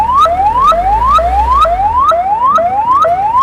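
An ambulance siren wails loud and close, a repeating rising sweep roughly every half second over low engine rumble, sounding on its own at a free ambulance launch.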